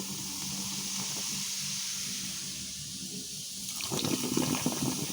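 White vinegar poured onto baking soda in a household drain, heard as running liquid followed by a growing bubbly fizz and gurgle, close and moderate, with no talking.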